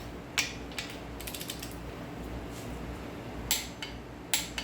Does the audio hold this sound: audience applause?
no